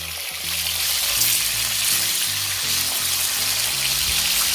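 Chicken pieces for Jamaican-style fricassee sizzle loudly in a frying pan, a steady hiss of hot oil broken by a few soft knocks and scrapes as the pieces are turned over.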